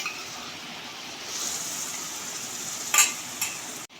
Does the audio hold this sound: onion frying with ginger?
yes